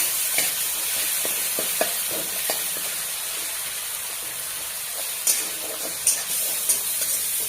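Green chilli and coriander paste frying in a pan for a bottle gourd curry, a continuous soft sizzle with a few light spatula taps and scrapes, close and unaccompanied by talk.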